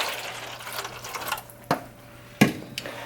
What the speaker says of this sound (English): Then you go ahead and you pour your water in.